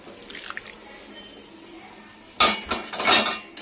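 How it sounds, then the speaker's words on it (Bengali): Hot water poured into a pot of crab curry, a short burst of splashing and clattering against the metal pot after a quieter stretch with faint background movement. "গরম জল দিয়ে দিলাম।"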